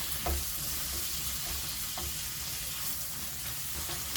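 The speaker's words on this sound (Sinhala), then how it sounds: "මේ මිරිස් කුඩු 3-5 ටික මේ තෙලින් පොඩ්ඩක් ටෙම්පරාදු කරගන්න" Steady, loud hiss of chili powder frying in oil for a chickpea curry, with a few soft scrapes of stirring scattered throughout.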